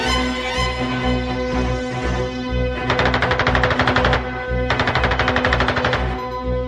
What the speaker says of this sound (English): E-16 was armed with 2 Shkas machine guns. This weapon had an outstanding for those times firing rate